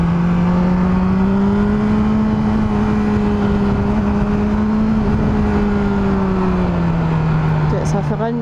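Engine of a 2022 BMW S 1000 R motorcycle on a small country road, a loud steady droning tone that rises slightly and then eases back down, continuous and close for several seconds.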